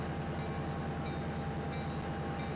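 A GP35 diesel locomotive in the Trainz railroad simulator pulls away after being notched up to throttle 5, giving a steady, dense engine drone with a faint rhythmic pulse and no talking.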